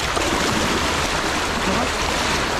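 A river current flows steadily and close by, a broad, loud rushing wash that holds without break, with no clear speech over it.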